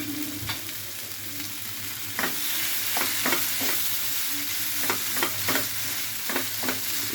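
Potato and bean bhorta being stirred in a pan, a steady low sizzle broken by a series of sharp spatula scrapes and taps at irregular intervals, close and alone.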